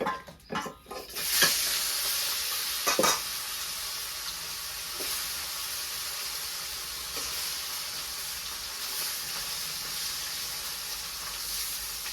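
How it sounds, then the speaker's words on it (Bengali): Marinated fish pieces sizzle loudly in a hot karai, with a few sharp stirring and spattering bursts early on, then a steady, even hiss of frying oil. "মাছ সবটি দিয়ে দিই, ভেজে নিই"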